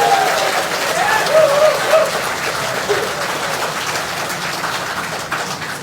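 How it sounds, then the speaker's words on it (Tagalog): An audience gives warm applause at a civic gathering in Pandacan, Manila, producing a steady wash of many hands clapping that fades slightly toward the end, with faint voices underneath. "isang mainit na palakpak bilang pasalamat sa"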